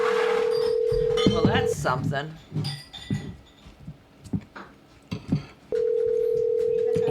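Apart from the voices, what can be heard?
telephone ringing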